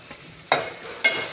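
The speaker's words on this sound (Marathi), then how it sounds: "कढीपत्ता चांगला परतून घेऊन नंतर कोथिंबीर घालू" Curry leaves frying in a pan, two sharp sizzling bursts about half a second apart as they are stirred over a quiet background, close and brief.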